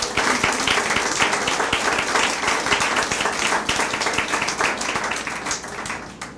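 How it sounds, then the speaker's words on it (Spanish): A church congregation at a Sunday service gives sustained, loud applause with sharp individual claps standing out, dense and continuous before tapering slightly at the end. "Denle un aplauso al Señor Jesús."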